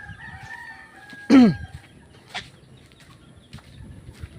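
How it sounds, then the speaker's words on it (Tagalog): A rooster and chickens in a Filipino yard: one loud, short crow rings out near the middle, with faint scattered clucking and quiet background noise around it. "Marami din palang manok dito."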